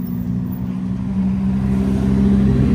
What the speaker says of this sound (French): il y a la toute dernière R8 qui arrive, je vais la laisser passer pour vous la filmer